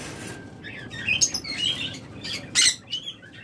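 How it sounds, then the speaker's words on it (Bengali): Lovebirds for sale give several quick, high chirps and squeaky calls at close range, in short bursts over a soft rustling background, with no voices. "এরপর রয়েছে আমাদের কাছে বেশ কিছু সুপার কোয়ালিটি লাভ বার্ড"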